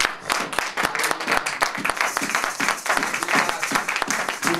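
A church congregation claps and applauds the Lord, dense, steady hand-clapping with a rhythmic pulse and some cheering, filling the whole room.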